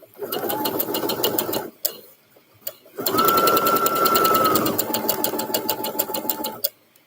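Sewing machine stitching a seam on a men's scrub top, with loud close whirring in two runs and a short pause between them, each run ending in a faint mechanical clack.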